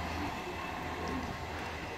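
A ScotRail train passing through Dalmeny station on the Fife Circle and Aberdeen lines, heard as a steady, fairly quiet rumble of wheels and carriages with no talking.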